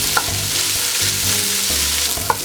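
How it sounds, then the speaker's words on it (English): Swiss chard stems and onion, salted, sizzle loudly in a pan as they are stirred, with a steady fry hiss and a few scraping clinks of the spoon. "Stir this around and wilt the stems and cook the onion."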